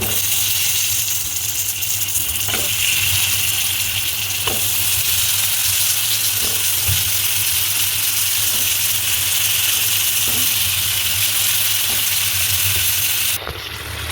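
Potatoes fry with spices in a pan, a loud continuous sizzle close up, broken by occasional scraping clicks of stirring, with no voices.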